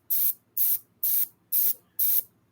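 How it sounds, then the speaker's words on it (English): Five short, evenly spaced bursts of hissing air from an Iwata Eclipse double-action airbrush as the trigger is pressed and released, close and crisp with silence between each puff. "When I push it up and down, you can hear the air control."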